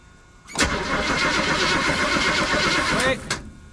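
A Chevy 350 small-block V8 in a square-body C10 pickup, with a newly installed intake manifold and carburetor, cranks, catches and runs loudly for a few seconds before cutting off abruptly, with voices nearby.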